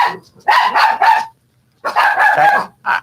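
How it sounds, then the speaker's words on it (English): Several dogs barking indoors in quick bursts, two close clusters of loud barks separated by a short pause, with a final yip at the end. "Dogs, hush."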